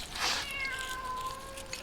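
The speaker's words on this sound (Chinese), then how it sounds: "谁家的猫啊？" A cat meows in a drawn-out, rising-then-falling cry, close and clear over a faint background hiss, with no talking.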